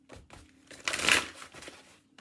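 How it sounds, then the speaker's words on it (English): A deck of playing cards is shuffled in a quick riffle that swells to a brief crisp burst of fluttering, then settles into soft taps, close and alone. "One more shuffle."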